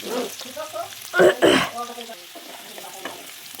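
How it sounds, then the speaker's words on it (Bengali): Steamed taro frying in a pan, a soft sizzle under louder stirring scrapes and a couple of sharp bursts midway, with a voice talking nearby. "এবার এটাকে কচুটাকেও একটু ভেজে নেবো"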